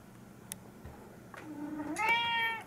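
A house cat lets out a single drawn-out meow indoors beside a bookshelf, close by, preceded by soft rustling and small taps in a quiet room.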